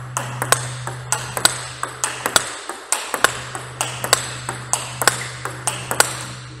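Table tennis ball struck repeatedly with a Darker Speed 90 Hinoki 9mm blade during blocking practice, giving a steady, sharp run of close pings about every half second, alone over a low background hum.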